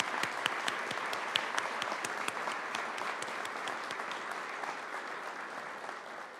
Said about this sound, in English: Let's give Pam a round of applause.